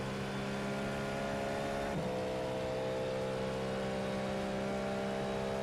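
Cadillac GTP prototype race car engine in the iRacing simulator, a steady loud droning hum held at constant pitch, with a brief shift partway through, no talking.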